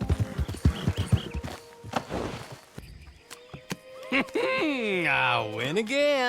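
Horse hooves clip-clop quickly in Red Dead Online, followed by a whinny and shifting game sounds, with someone speaking over it.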